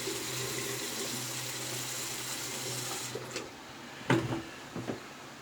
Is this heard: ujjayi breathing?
no